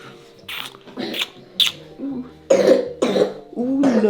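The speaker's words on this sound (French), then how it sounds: "Tu tousses?" A baby coughs repeatedly in short, raspy bursts at irregular intervals, close by, with some soft vocal sounds between the coughs.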